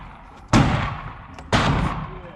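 Two loud, sharp gunshots at an indoor shooting range, about one second apart, each a sudden crack followed by a booming decay, close by.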